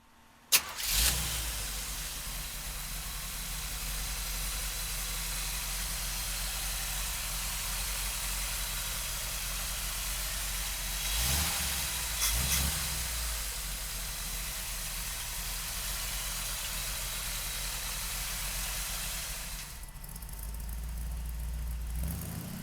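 The small-block engine of a 1958 Chevrolet pickup cranks briefly and catches, then idles steadily for about twenty seconds with a broad rumbling roar. It gives one brief rev midway and no one talks.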